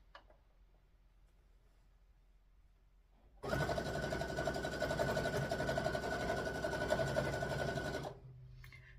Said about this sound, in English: so we just want to finish off sewing, just finish off to where we started.